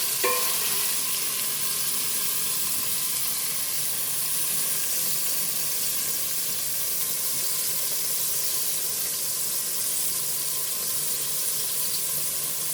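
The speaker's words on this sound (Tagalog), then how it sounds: "ginigisa-gisa na po niya." Tomatoes sauté in a pan for Iloilo-style chicken with bottle gourd, giving a steady, close hiss and sizzle of frying with faint stirring throughout and no voices.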